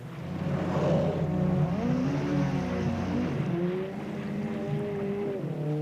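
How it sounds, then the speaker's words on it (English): A Zodiac inflatable boat's outboard engine drones loud and close, its pitch rising and falling as it revs and then eases off, with water noise underneath. "She turns under the Zodiac, and quickly Sumian raises the engine."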